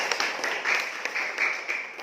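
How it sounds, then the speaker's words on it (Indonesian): Students in a classroom clap for their classmates, a short burst of scattered, fairly close hand claps with a faint voice underneath. "Tepuk tangan untuk kalian."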